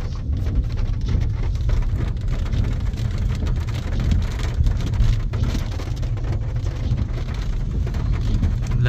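Heavy rain pours steadily on a New Brezza during a night road trip through a valley in Bihar, a dense continuous roar of drops on the car with a low rumble underneath and no speech.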